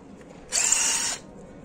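A Vonder cordless drill running on a DeWalt battery bores into concrete in one short, close, high-pitched burst of about half a second, with quiet before and after.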